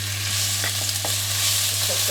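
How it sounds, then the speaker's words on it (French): Onion, garlic and chili sizzle in hot oil for a Thai-style green chicken curry, with a constant loud frying hiss and a few soft scrapes from stirring up close. "un peu d'huile et on va faire revenir notre oignon, notre ail et puis notre piment"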